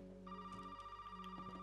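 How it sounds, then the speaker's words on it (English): Telephone ringing inside the Resident Evil 7 video game, a steady electronic ring with sustained tones, fairly faint and alone with no talk. "As with every time we try to leave a place, the phone rings."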